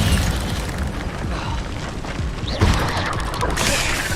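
An Incendio fire spell in Hogwarts Legacy sends out a dense, roaring blast of flame with a steady rumbling rush and a sharper surge midway, loud and continuous, with no talking.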